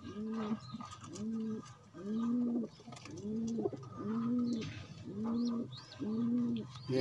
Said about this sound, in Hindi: ये मेरा उड़ान का कबूतर है।